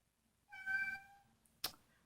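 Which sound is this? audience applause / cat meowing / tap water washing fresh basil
cat meowing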